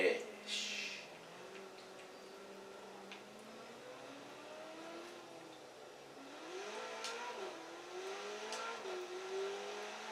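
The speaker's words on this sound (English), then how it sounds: "Sounds like a Ferrari." A car engine in the racing game Forza Horizon 4 revs and rises in pitch as the car accelerates, fairly faint, with a voice talking over part of it.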